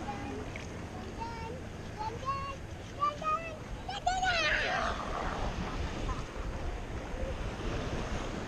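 Choppy bay water slaps and washes around a small boat in steady surf-like noise with wind buffeting the microphone, while a voice talks briefly over it.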